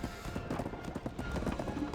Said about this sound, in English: I'm actually going to stop my horse right here